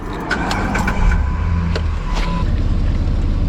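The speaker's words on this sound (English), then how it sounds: "Let's run the car for him." A car engine idles close by, a steady low rumble with a few sharp clicks and knocks layered on top, no one speaking.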